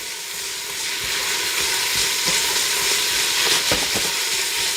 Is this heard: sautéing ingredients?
yes